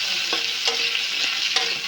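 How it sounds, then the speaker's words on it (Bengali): Onions and two dried red chillies frying in oil, a hissing sizzle broken by four spaced stirring scrapes, close and steady, with no voices. "এখন পেঁয়াজগুলো ভালো করে ভেজে নিচ্ছি"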